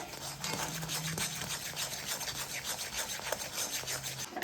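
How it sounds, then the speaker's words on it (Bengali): Semolina filling being stirred continuously with milk and sugar in a pan, a steady close scraping and rubbing texture with soft irregular strokes, no voices. "এবার অনবরত নাড়াচাড়া করে একটা পুরের মতন করে নেব সুজিটাকে।"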